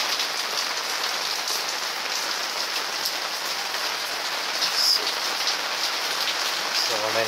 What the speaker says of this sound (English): still raining, no let up.